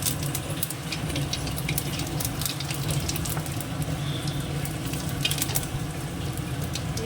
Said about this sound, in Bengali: কড়াইতে আবার তেল দিয়েছি দিয়ে দেবো শুকনো লঙ্কা একটু জিরে